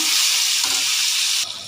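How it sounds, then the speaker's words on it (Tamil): Onion and tomato sauté in a hot pan, a loud, steady hiss of frying that stays close and continuous, then drops off sharply near the end. "வெங்காயமும் கருவேப்பிலையும் போட்டு வதக்கிப்போம்."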